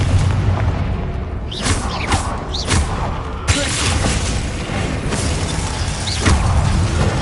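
Confringo blasting spell explosions in the video game Hogwarts Legacy: a string of sharp, loud booming bursts at irregular intervals over dense, continuous game noise.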